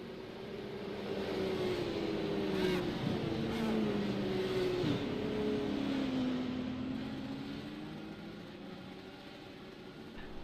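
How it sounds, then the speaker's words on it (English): Race cars in a racing video game, set at New Hampshire with IndyCar-style DW12 cars, heard as several engine tones droning and shifting pitch as the cars roll past at moderate distance, steady throughout. "And we hear some cars that'll line up."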